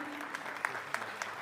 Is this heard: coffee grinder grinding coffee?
no